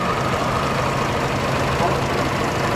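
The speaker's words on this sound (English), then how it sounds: "this one is fitted with a 6-cylinder BMC diesel engine" A Nuffield tractor with a 6-cylinder BMC diesel engine and a lengthened chassis runs at a steady, low idle at the 2012 Great Dorset Steam Fair, with someone talking over the engine throughout.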